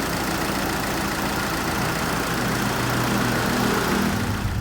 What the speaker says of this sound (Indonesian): mungkin mesin bisa dihidupkan dulu ya, dihidupkan apakah suara mesinnya normal.